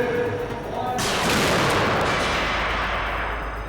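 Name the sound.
Debris Impact Cannon firing debris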